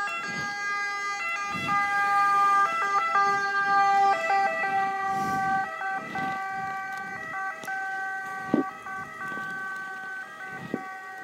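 Ambulance siren passing on a road in the province of Bergamo, Italy, a loud continuous two-tone wail cycling steadily for about eleven seconds with passing traffic rumble underneath.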